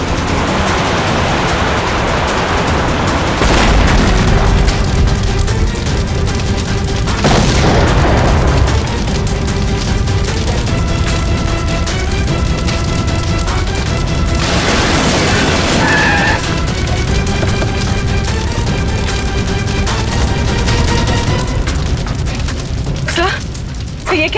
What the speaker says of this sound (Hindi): इसकी गाड़ी में किसी ने बॉम्ब फिट कर रखा था